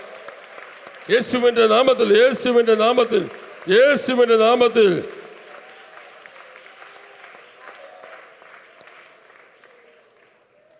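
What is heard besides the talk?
congregation clapping hands in church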